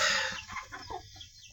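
Rhode Island Red hens clucking close by in a short burst of quick, choppy clucks and a drawn-out squawk, fairly faint overall.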